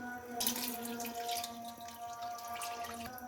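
Water pours and splashes into a pot of rice for vegetable pulao in an uneven stream for a few seconds, close by, over a faint steady hum.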